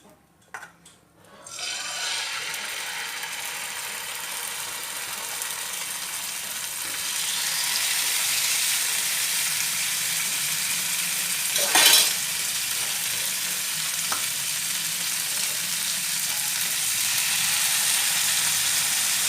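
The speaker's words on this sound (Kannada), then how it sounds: "ಈಗ ಎಣ್ಣೆ ಪಾಡ್ಗ ಮುರುಮೀನ್ ಫ್ರೈ ಮನ್ಪುಗೈತೆ" Murumeen fish frying in oil on a tava, a long steady hiss of sizzling oil close by, with a brief scrape near the middle and a faint clatter later.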